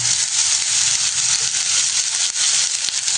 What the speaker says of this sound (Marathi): आता कांदा परतत असताना आपण त्याच्यामध्ये थोडंसं तेल टाकायचं आहे।